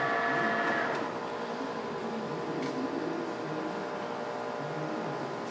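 TOS gap bed engine lathe running in a machine shop, a steady mechanical whir and hum with faint rattles, a little louder at the start and then even.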